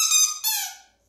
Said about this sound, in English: otherwise, no squeaky ball for me